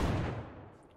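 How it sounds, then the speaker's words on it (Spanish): A huge explosion in the video game DayZ booms once at the very start, a deep heavy blast decaying into a low rumbling tail over about a second, heard alone. "Una explosión, pero del tamaño de Hiroshima."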